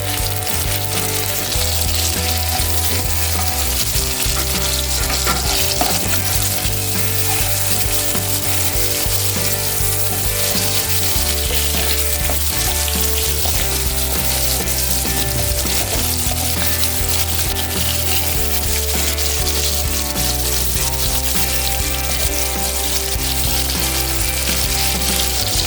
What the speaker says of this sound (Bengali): এতে আমি টমেটো গুলি দিয়ে দিচ্ছি।